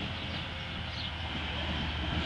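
CSX eastbound autorack freight train approaching, a broad steady rumble and roar that builds slightly as it nears, with no horn yet.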